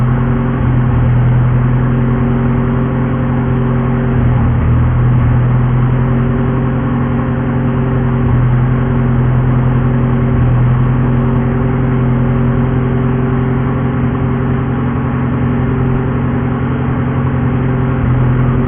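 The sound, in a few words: Honda Civic engine idling while warming up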